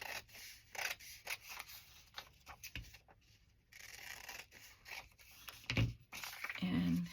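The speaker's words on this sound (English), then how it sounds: "I'm going to trim this down." Scissors snip through fabric in a quick series of sharp, close cuts, several crisp clips spaced unevenly, quiet and alone at a crafting table.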